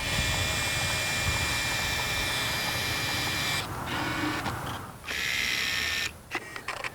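A Fuji GA645 medium format camera runs its shutter and film advance mechanism, giving a loud, steady mechanical whirring close by for several seconds. It breaks off briefly twice and stops near the end.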